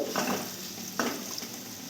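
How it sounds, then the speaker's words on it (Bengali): Potatoes fry in a pan, a low steady sizzle marked by two brief scraping stirs, close and fairly quiet, with no one speaking. "লাল লাল করে আলুটা ভাজা হয়ে গেলে"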